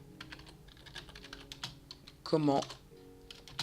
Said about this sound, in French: je suis désolé pour les bruits de clavier